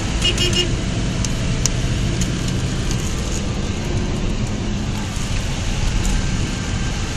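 Road traffic on a highway in Rajasthan as a vehicle overtakes a camouflaged Chevrolet compact sedan test car, a loud steady engine and tyre roar with wind rush and a few brief horn toots early on.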